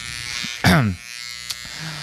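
Electric hair clippers buzz loudly in a short burst as they run over a head during a shave, with a steady background hum before and a softer buzz after.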